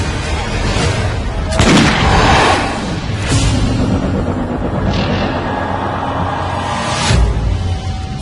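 Gunpowder weapons and artillery firing: several loud booms over about eight seconds, spaced irregularly over a continuous rumbling din, with no voices.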